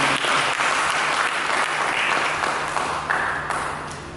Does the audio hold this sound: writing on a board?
no